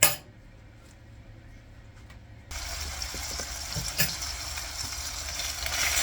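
Pizza sloppy joe filling frying in a pan, a steady sizzle that starts quietly and then jumps louder partway through, with a few soft clinks over it, heard alone with no talk.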